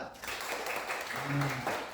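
Classroom of pupils clapping for a fellow student during a Hindu religion and character education lesson, a dense burst of applause lasting a couple of seconds with a voice briefly rising over it.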